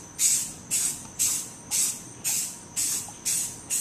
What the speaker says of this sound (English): And start, when you spray, start off of the gun and then go past the gun so it doesn't blob up